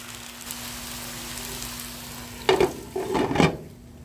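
Broccoli and cauliflower get stirred in a pan, a faint sizzle hissing under several quick scraping, clattering stirs near the end.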